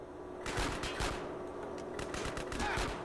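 Rapid automatic gunfire in GTA San Andreas during a gang war mission, a dense, continuous burst of shots heard close and loud after a brief quiet opening.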